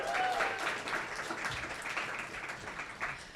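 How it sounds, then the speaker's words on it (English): Audience applause at a climate justice panel in Brooklyn, a steady wash of clapping from a crowd lasting a few seconds, fairly even in level and without talk over it. "Can we give another round of applause?"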